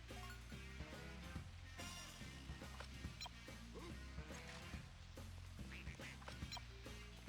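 A duck in the video game Toy Story 2 quacks briefly a few times, faint and partly buried under busy, loud in-game music and effects that run steadily throughout.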